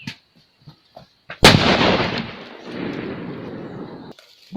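A string of Diwali firecrackers sets off with a sharp crack, then rattles into a loud, rapid crackling burst that runs for a few seconds and fades, following a few faint pops.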